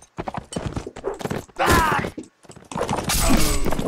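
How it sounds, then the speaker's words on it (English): Horse hooves clip-clop in fast, rhythmic beats during a ride in the Mount and Blade video game, close and loud, with bursts of clashing game noise between the gallops. "practicing my horse ride"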